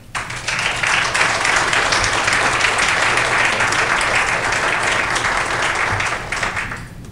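An audience delivers sustained, dense applause that starts abruptly, holds at an even, full level for several seconds, then tapers off near the end.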